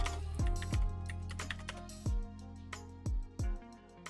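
Clicky keystrokes on a computer keyboard while a program name is entered, in short irregular bursts over a steady background hum, with deep thumping beats underneath. Nobody speaks.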